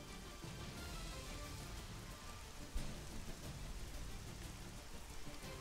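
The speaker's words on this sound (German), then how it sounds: "jetzt fängt es auch noch an zu regnen" Rain falls in the Arma III game during light summer weather, a steady dense patter of drops that fills the scene evenly. One brief heavier thump breaks through midway, and no voices are heard.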